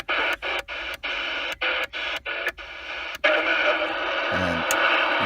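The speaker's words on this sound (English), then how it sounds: "it's a 40 channel radio, so if I just keep going through all of them real quick" CB radio in a Jeep Patriot being clicked rapidly through its 40 channels, giving bursts of static hiss cut by short regular gaps with each switch, then a steady continuous hiss.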